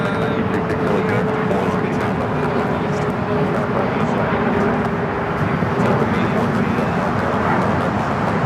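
Airplane at LAX powering up for takeoff, a steady loud engine roar with a faint whine, alongside a brief tone and some background voices.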